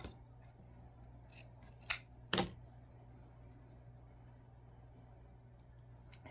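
Scissors cut ribbon for a deco mesh wreath, two crisp snips close together, quiet and near, with soft handling rustles and a low hum in the background.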